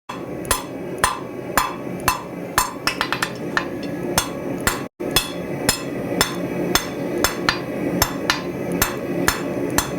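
Hot metal is hammered round on an anvil, with loud ringing strikes in a steady rhythm, several quick rapid taps mixed in, and a brief pause midway before the regular blows resume.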